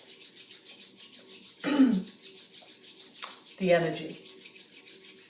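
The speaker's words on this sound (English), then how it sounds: "rub the palms of your hands so that you can feel" Two bursts of hands rubbing palms together, each about a second long and fairly loud against a quiet background, separated by a pause, with a calm voice speaking briefly in between.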